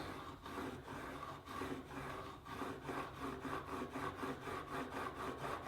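A blade slides forwards and backwards over a fine-grit diamond sharpening plate under light pressure, making a steady run of soft, evenly spaced rasping strokes heard close.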